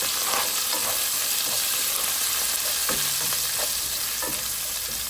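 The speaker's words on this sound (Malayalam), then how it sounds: "ഒരു അഞ്ചാറ് അല്ലി വെളുത്തുള്ളിയാണ് ചതച്ച് വെച്ചേക്കുന്നത് അതിട്ടൊന്ന് ഇളക്കി കൊടുക്കാം" Crushed garlic and curry leaves fry in hot oil in a pan for pork curry. A loud, dense, close sizzle holds steady throughout, with occasional stirring scrapes and knocks, and no talking.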